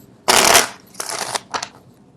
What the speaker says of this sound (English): I don't know why people like to see the card shuffle live, I guess.